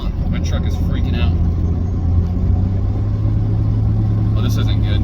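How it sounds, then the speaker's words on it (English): A pickup truck with a flashing battery light and a misbehaving transmission, driven on a 12-mile road trip. It makes a loud, continuous engine rumble with a shifting low drone, heard from inside the cab alongside bits of road noise. "what is going on? My truck is freaking out."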